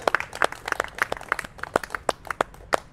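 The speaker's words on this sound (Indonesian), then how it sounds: "Berikan tepuk tangan buat Tuhan." Scattered hand claps ring out from a church congregation during a sermon, coming as sharp, irregular bursts rather than a dense, sustained applause.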